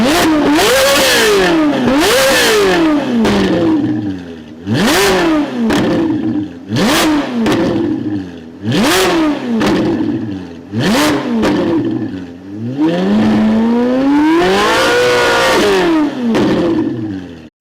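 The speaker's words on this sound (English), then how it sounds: "This Ferrari is straight piped and sounds so loud." Straight-piped Ferrari 458 engine revving hard in repeated loud bursts, pitch climbing and dropping with each blip, then a longer rising pull and fall near the end, close and alone.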